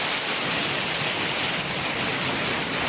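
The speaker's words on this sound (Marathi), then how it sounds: "बघा मी असं पाणी वाहत आहे" Floodwater rushes down a street in heavy rain in Nagpur: a steady, dense flow with rain hiss, loud and close, no voices over it.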